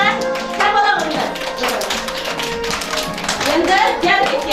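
Children and adults clap together at a kindergarten party for a March 8 Mother's Day celebration, a dense, steady patter of hands filling the room with voices mixed in throughout.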